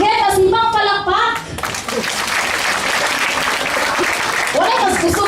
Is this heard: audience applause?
yes